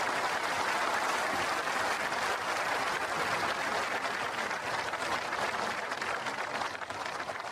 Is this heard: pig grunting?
no